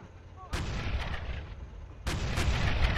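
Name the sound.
off-map artillery fire in video game Men of War: Assault Squad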